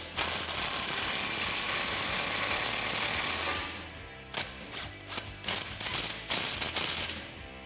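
Ratchet with a 15mm socket tightening the exhaust tip clamps on a Mustang GT: a steady dense mechanical whir for a few seconds, then a series of sharp, uneven clicking bursts up close.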